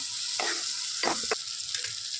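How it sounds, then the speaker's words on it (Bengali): Masala frying in a pan while being stirred, a constant hiss of sizzle with a few short scraping strokes of the spoon across the pan. "এবার ভালো করে নাড়াচাড়া করবো পাঁচ মিনিট ধরে একটু ভাজা ভাজা ভালো করে নেবো"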